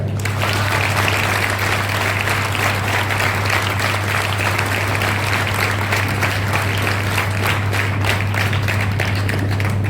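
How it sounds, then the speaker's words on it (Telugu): A large audience at a Jesus Youth meeting in the Nirmala Convent auditorium claps loudly and continuously, dense uninterrupted applause filling the whole stretch. "గట్టిగా నా అమ్మలందరికీ కూడా చప్పట్లు కొట్టాడు"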